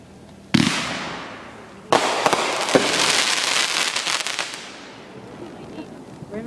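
Fourth of July fireworks over a neighborhood road, with two sharp booming bursts followed by a long crackling, sizzling shower that slowly fades, while people talk and react nearby.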